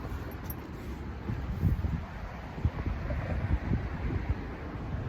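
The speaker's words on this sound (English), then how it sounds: "The wind's horrific." Strong wind gusting to 50 mph buffets the microphone in heavy, rumbling gusts that swell and ease at a large carp-fishing lake, with no voices.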